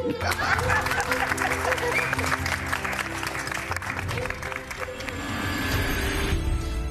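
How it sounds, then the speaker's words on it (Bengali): Applause at a Bengali family gathering after a wife sang and another guest played music, a dense run of clapping with some crowd noise and laughter filling nearly seven seconds before easing near the end. "আরেকবার হাততালি হয়ে যাক"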